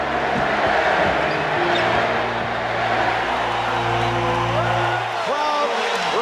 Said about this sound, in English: Crowd reacts to the entrance of Larry Bird, a standing ovation.